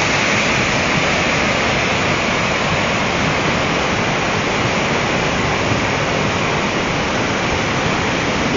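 Floodwater roars loud and steady past a footbridge carrying steel debris, a dense continuous rush with no breaks and no voices.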